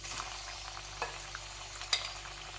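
Flour-coated chicken pieces frying in hot oil, a faint steady sizzle with a few soft clinks and splashes as pieces go in, quiet and without talk.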